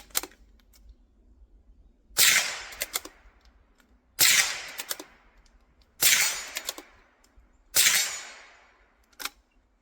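.22 rifle firing CCI standard velocity ammunition outdoors: four loud, sharp cracks spaced about two seconds apart, each with a short decaying tail, then a fainter fifth shot at the end.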